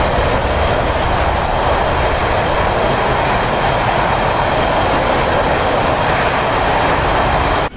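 Aircraft engines roaring on a carrier deck in DCS World, a loud, steady, broadband jet noise that holds unbroken until it cuts off at the end.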